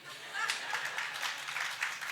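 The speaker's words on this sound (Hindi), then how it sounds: "कितनी ताली बजी देखो तो दिल से" An audience at a spiritual discourse in Banswara claps in a sustained, dense burst of applause, moderately loud and steady throughout, with faint voices mixed in.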